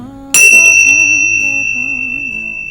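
A single Nepalese hand-beaten singing bowl or bell is struck once, giving a loud bright ring with a sustained, slowly wavering hum that fades gradually with no talk.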